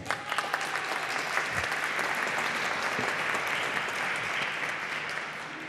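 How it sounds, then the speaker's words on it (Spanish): An audience at a talk on the pension system gives loud, continuous applause that carries on evenly for several seconds without fading. "Un fuerte aplauso"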